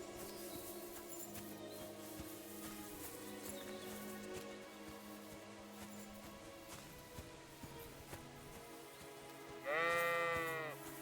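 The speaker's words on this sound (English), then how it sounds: "Hey look, there's your sheepy friends." A sheep bleats once, loud and close, near the end of a busy medieval village ambience in the game Kingdom Come: Deliverance II.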